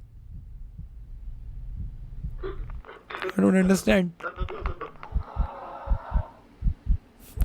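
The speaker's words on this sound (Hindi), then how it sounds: "दिल धड़कने की आवाज आ रही है बहुत जोर।" A loud, booming heartbeat sound effect throbs in repeated low pulses through the second half, following a stretch of low rumble and a burst of talk partway through.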